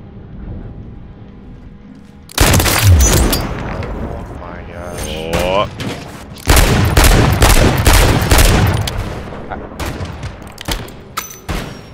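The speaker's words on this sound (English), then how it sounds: "I'm gonna shoot this counter UAV." Video game gunfire in a Shipment free-for-all match as a player shoots down a counter UAV. Loud bursts of rapid shots and booms come in dense clusters, with sharp single cracks near the end.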